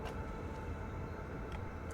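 A freight train pulling into a station in the factory-building game Satisfactory, heard as a steady, low mechanical rumble with faint clanks that carries on throughout and has no talk over it.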